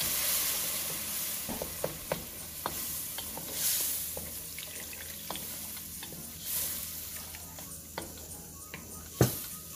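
Chopped vegetables for pav bhaji cooking in oil in a pan with water just added, a soft steady sizzle and hiss broken by scattered sharp clinks and scrapes of a stirring spoon.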